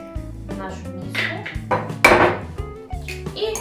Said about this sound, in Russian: Сначала берем яйца, разбиваем их в нашу миску